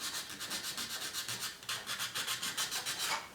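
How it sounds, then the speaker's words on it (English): Sandpaper rubs rhythmically back and forth against the edges of a handmade jewellery piece, a quick run of close, soft scratchy strokes with no voices. "then from there you can use your sandpaper to round the edges off"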